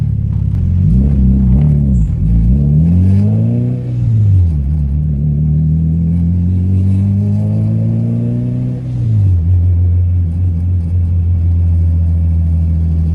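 Turbocharged 1999 Honda Civic with a B-series engine, loud and close, revving up and down repeatedly with rising and falling pitch, deep steady rumble between pulls.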